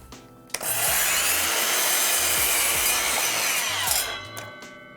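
A miter saw spins up with a sharp thump and then bites through a wooden workpiece, its loud sustained whine and rasp of the cut holding steady for several seconds before it winds down, no talking.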